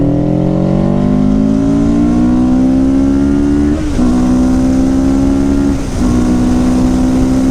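A motorcycle engine revs up hard and close, its pitch climbing steadily, with two brief dips where it shifts gear before pulling higher again.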